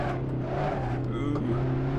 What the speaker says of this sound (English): sounds of it hitting the curbs are pretty good.